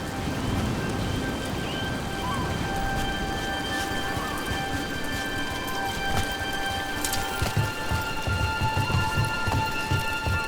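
Steady rain falls in the video game Dragon Age: The Veilguard, a dense, even patter with occasional louder drops and faint low rumbles. The rain is heard alone at moderate level with no voices.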